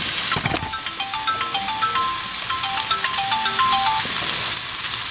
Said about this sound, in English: Oh, there's the bloody phone.